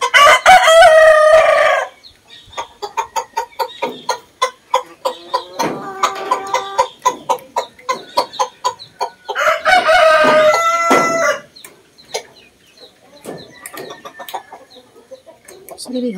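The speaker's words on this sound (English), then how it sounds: "So there's 2 hens and 1 rooster." In a chicken coop with two hens and one rooster, the rooster crows loudly nearby twice, with rapid chicken clucking in between and afterward.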